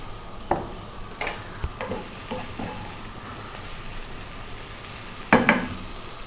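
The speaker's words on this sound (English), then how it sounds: "we're going to go for 4 minutes, staying on this lively high heat, and we're going to be stirring it pretty much all of the time" Cauliflower pieces stir-fried over lively high heat with salt for a gobi fry, spatula scrapes and clacks landing in irregular bursts over a steady close sizzle, with no voices.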